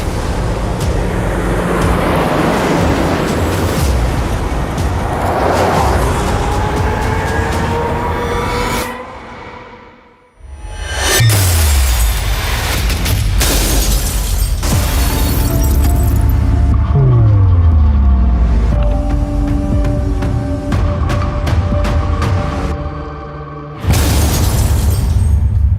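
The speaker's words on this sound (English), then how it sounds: "The same car now faces a second high-severity side impact." A loud, sustained roar of crashing metal and shattering from a high-severity side-impact crash test on a Tata Tiago CNG car, with a brief near-silent gap midway before the heavy impact noise resumes.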